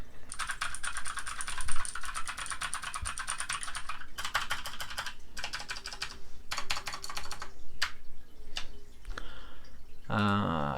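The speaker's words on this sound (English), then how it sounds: "So let me go ahead and give you a quick sound test on this keyboard." Fast, steady typing on a Mac edition computer keyboard in a desk setup with an M1 Mac Mini, dense clicking keystrokes in bursts with short pauses, close and clear, with no talking.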